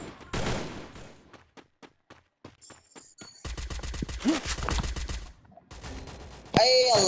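Bursts of gunfire in a Counter-Strike style shooter, with single shots and rapid automatic volleys in sharp repeated pulses, loud and close, broken by short gaps and mixed with game sounds.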